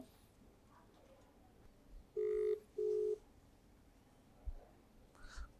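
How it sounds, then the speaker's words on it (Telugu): Two electronic ring tones of an outgoing phone call sound in quick succession over a quiet hiss, followed by faint clicks. "ఫోన్ రింగ్ అయింది కానీ కాల్ని రిజెక్ట్ చేశారు"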